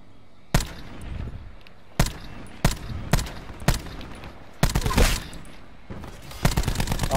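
Sharp, loud shotgun blasts from the Call of Duty: Black Ops 4 video game ring out one after another at irregular intervals, about eight reports with short decaying tails.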